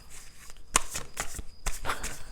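Playing cards handled and shuffled close by, a quick run of crisp riffling snaps and slaps in irregular bursts over two seconds, with no talk.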